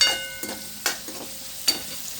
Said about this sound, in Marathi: तर तसेच मी मिरची टाकते आहे, सगळी टाकली मिरची